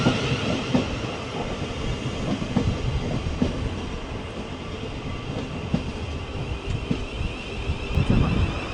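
South Western Railway train 444022 rolls through Clapham Junction toward Waterloo, a steady rumble with rhythmic wheel clatter and some wind buffeting the microphone, close and continuous.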